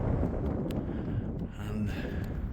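Cold, steady wind buffets the microphone on an open hillside viewpoint, a dense continuous rumble with no break, close and fairly loud.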